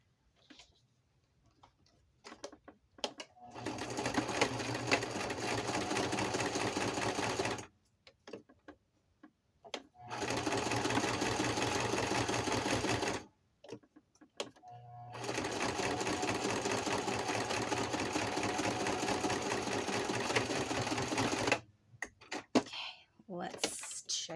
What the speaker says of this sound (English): let me try sewing it